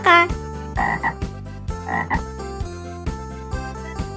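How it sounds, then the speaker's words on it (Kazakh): A frog croaks in a series of loud, closely spaced calls, each a short raspy burst repeated at a steady rhythm, with no voices alongside. "Бақа."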